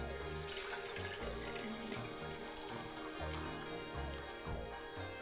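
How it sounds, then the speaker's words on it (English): Homemade vanilla-flavored keto coconut milk, made in a blender, pours into a jar as a faint, steady splashing trickle lasting several seconds, with no voices. "Let's just pour it into our jar now."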